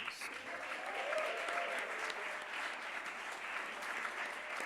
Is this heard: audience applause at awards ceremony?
yes